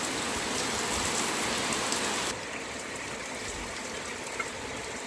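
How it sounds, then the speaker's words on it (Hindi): Steady, dense heavy rain pouring down in Qatar, a broad continuous hiss that drops slightly in level partway through, with no voices. "बहुत ज़बरदस्त बारिश है आज कतर के अंदर"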